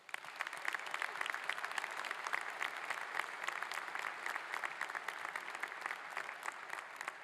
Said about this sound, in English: please join me in expressing our appreciation and thanking our faculty with a